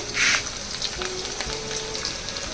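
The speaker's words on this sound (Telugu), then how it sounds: "నూనె వేడయింది ఇప్పుడు ఫస్ట్ వెల్లుల్లి రాకలు వేయాలండి ఇదిగోండి ఒక స్పూను పచ్చిశనగపప్పు" Garlic and chana dal hit hot oil in a pan, giving a soft steady sizzle and crackle with one louder burst of spitting near the start, close and fairly quiet.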